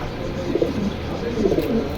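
Silver Thor pigeons, a fancy breed kept at a pigeon stall with eggs in Jinjira market, coo in low, throaty bursts that swell and fade twice over steady background murmur.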